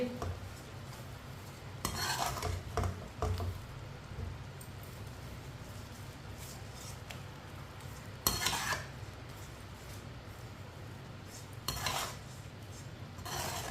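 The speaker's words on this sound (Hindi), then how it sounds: "आधी चमची साबुत जीरा, आधी चमची साबुत धनिया। मिक्स कर लेंगे।" Whole cumin and coriander seeds stirred with turmeric in a pan for raw mango chutney: a quiet steady sizzle with a few brief scraping, clinking bursts of the spoon against the pot.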